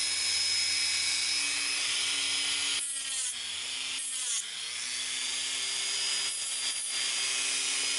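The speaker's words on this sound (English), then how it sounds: "Don't want any points, so we're going to sand all these points off." Sanding a coin to round off the points of a homemade coin arrowhead, a steady abrasive rubbing hiss running through the whole stretch with a few short breaks, close and fairly loud with a constant tonal hum beneath.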